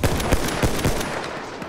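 Rapid gunfire in Battlefield 1, a dense burst of repeated shots close up in a smoky battle, with sharp cracks recurring over a continuous roar of combat.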